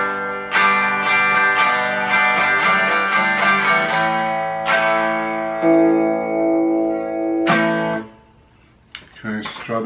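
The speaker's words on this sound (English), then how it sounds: "And then both out of phase." Fender Jag-Stang electric guitar played clean with both pickups on out of phase, giving a thin, nasal tone: a run of strummed chords and single hits ringing out, then a brief pause near the end before a few more notes.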